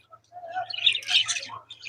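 Budgerigars chirp and twitter in quick, bright bursts at close range, with a faint low hum underneath.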